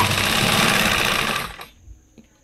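A sewing machine stitches a sleeve onto a blouse in a brief, loud burst of rapid running that stops after about a second and a half, leaving near quiet.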